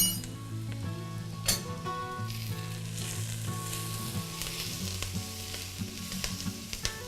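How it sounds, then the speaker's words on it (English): Chopped onion sizzles and fries with mild curry powder in a hot pan, a steady close crackle with a few light clinks of a utensil stirring against the pan. "And then you cook the onion with the curry for about 1 to 2 minutes."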